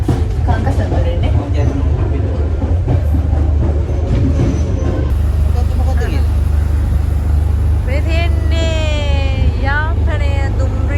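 Passenger train travelling to Jaffna, heard from on board as a steady loud rumble of carriages throughout, with whining, squealing tones rising toward the end.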